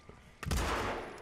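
Gunfire in the Hitman stealth game: a single loud, close blast with a rumbling low tail that fades over a second.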